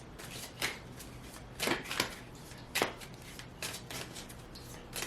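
Messages of Love oracle cards are shuffled by hand, quiet riffling and sliding with a few sharper slaps and snaps standing out at irregular moments, close and soft, with no voice over them.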